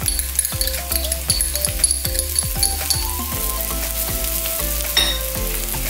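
Garlic and onion stir-fry in a pan for spicy corned beef, a loud close sizzle broken by rhythmic clanking stirs and rattles of a utensil against metal.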